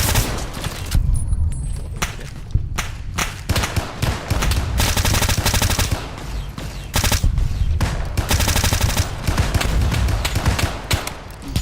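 Rapid automatic gunfire in a shooter video game with the whole squad, loud dense bursts and sustained fusillades crackling almost continuously, with brief gaps between volleys and heavy low thumps underneath.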